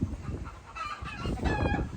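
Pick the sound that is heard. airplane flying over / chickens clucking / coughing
chickens clucking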